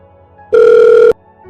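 A single loud electronic ring tone sounds for about half a second, steady and close, with quiet background before and after.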